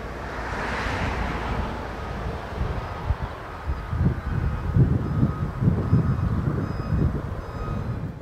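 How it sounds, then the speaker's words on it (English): Housatonic Railroad NX10 freight locomotives run nearby, a low steady diesel rumble with rhythmic thumping from the cars building in the second half, over a wind-like broadband wash and no talk. "the NX10 shoves the train east to Lakeland"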